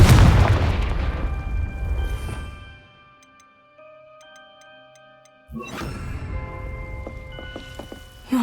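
A Confringo blasting spell explodes in the Hogwarts Legacy video game: a loud, booming burst that fades over a couple of seconds, then quiet musical tones, then a second heavy blast near the end.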